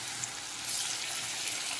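Sudan sea fish frying in a pan of hot oil, a close, steady hiss and crackle of sizzling that fills the moment without any talking.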